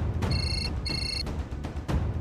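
A telephone gives two short electronic rings in a Marathi TV drama scene. Each burst lasts under half a second and is separated by a pause, heard over a low background hum with no talking.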